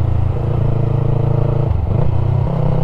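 Yamaha MT-03 motorcycle engine revs loud and close, a steady droning hum with shifting pitch, briefly dipping near the middle before climbing again, with no voices over it.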